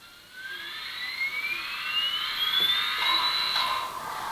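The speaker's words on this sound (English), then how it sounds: "Number 5 is the generator for the headlight." A headlight generator sound plays from an HO scale Bachmann Spectrum 2-8-0 steam locomotive with DCC sound. A high whine winds up steadily in pitch over a faint background hum, then drops away near the end.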